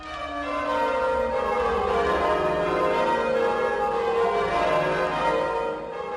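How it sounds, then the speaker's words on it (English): Church bells at St George's Cathedral in Cape Town, rung by bell ringers at rehearsal, a loud continuous peal of overlapping ringing tones with no speech. "the bell ringers assemble at St George's Cathedral in Cape Town for rehearsals"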